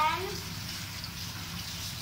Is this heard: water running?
yes